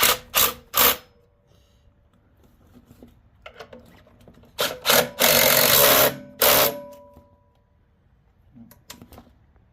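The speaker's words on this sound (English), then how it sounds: "These snug up pretty good with the impact driver." An impact driver snugging bolts on a crash bar of an Aprilia Tuareg 660 motorcycle, heard as short loud rattling bursts in irregular clusters separated by quieter handling noise.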